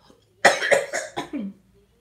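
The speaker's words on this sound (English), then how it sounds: "I have a cough that just won't go away." Four quick, harsh coughs in a rapid burst, close and fairly loud, followed by a brief throaty vocal trailing off.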